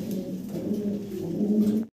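Pigeons in a loft coo in low, throaty, repeated phrases close by, a continuous murmuring coo that then cuts off abruptly.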